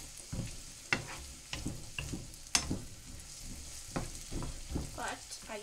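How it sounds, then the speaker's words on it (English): Onions and celery sauté in butter for stuffing, a soft steady sizzle broken by repeated scraping stirs and utensil clicks, close and fairly quiet, with no talking. "So I'm going to let this cook for a few minutes, just until the onions become nice and translucent."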